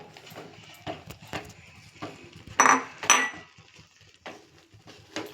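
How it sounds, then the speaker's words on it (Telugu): Lentil fritter batter mixed by hand in a bowl, irregular soft clicks and scraping taps against the bowl, a few louder knocks in the middle, close and without talk. "కొద్దిగా కొంచెం కొంచెం వేసుకుంటూ మొత్తం పిండి మొత్తం కలిపేసుకోవడం"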